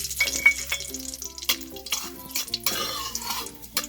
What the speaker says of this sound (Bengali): ফোড়নে দিয়ে দিচ্ছি দারচিনি এবং এলাচ 4টি।